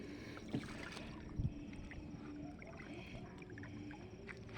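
Small rowing boat gliding on milky water on a crab-feeding trip, with a soft steady wash of water, a couple of brief knocks and splashes and faint distant noise, low and fairly quiet throughout.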